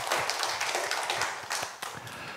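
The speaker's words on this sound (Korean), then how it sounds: "하나님께 영광의 박수 올려드리겠습니다." Church congregation clapping together after a worship prayer, a dense wash of many hands with scattered sharper claps, steady and fairly close, no talking.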